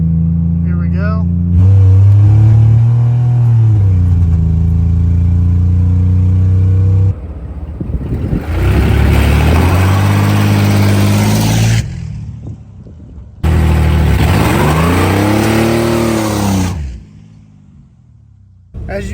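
A Ford OBS pickup's engine spraying nitrous revs hard and close, climbing and falling in long loud pulls broken by brief gaps at shifts, with a voice heard over parts of the roar.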